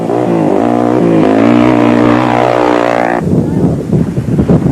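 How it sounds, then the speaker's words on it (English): Heavier 4-stroke off-road racing motorcycle jumping during the 1998 Toyota 1000 off-road race in South Africa: a loud, close engine drone climbs in pitch for about three seconds, then breaks off into rougher, scattered noise. "Jojo Tanks rider Francois KOETZEE also tries to claim air miles on his heavier 4-stroke version"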